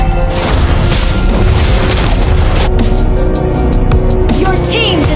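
In a Mobile Legends-style match with Rafaela on the support team, a turret is destroyed: dense, loud booming and crashing effects fill the whole stretch with battle noise and no pause.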